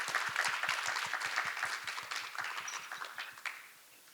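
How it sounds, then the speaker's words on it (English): Audience applause at a law conference, a dense run of rhythmic claps heard close up that fades out toward the end. "Please join me to give him a warm hand of applause"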